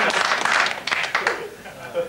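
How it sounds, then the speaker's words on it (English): A thin smattering of claps rises from a small studio audience at a comedy football show, a few scattered bursts that fade out quickly, with voices mixed in. "A smattering of applause, if ever I've heard it."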